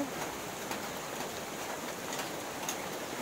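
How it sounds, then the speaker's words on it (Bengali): Light drizzle falls on a cool day in rural Bengal, making a soft, even patter and hiss with a few faint ticking drops, quiet and steady over a few seconds. "এই দেখো বৃষ্টি হচ্ছে।"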